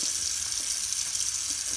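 Tap water runs steadily into a sink while paintbrushes are being washed, a continuous close hiss and splash with no talking.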